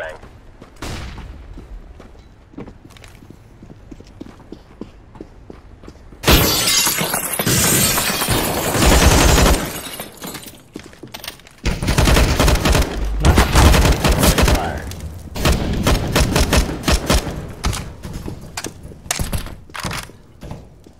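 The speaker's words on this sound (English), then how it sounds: "Deploying flashbang." A flashbang grenade goes off in the video game CS:GO, bursting into a loud, harsh blast followed by bursts of gunfire and sharp impacts. Brief speech comes through in places.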